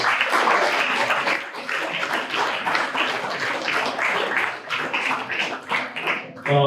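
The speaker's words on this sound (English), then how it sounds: "Another round of applause for Jonathan" An audience at a teacher appreciation event applauds for a teacher, dense sustained clapping from many hands that carries on steadily and swells again near the end.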